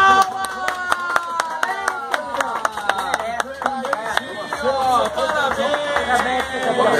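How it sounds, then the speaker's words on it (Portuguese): An audience claps for a prize winner at a Super Minas Cap lottery draw, with a dense run of clapping under loud voices and tonal sound throughout. "Continua a salva de palmas aí, gente!"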